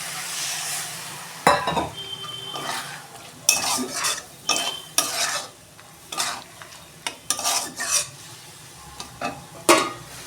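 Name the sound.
water added to frying masala, sizzling and stirring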